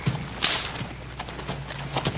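A few hoofbeats from a horse in a Western setting, a short run of light, uneven clip-clop steps at moderate distance over a low background hum.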